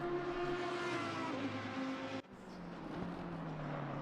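Race cars lap Bathurst in a racing video game, a loud sustained engine drone with steady high harmonics that cuts off abruptly and then returns as a rougher, rising engine roar from another car.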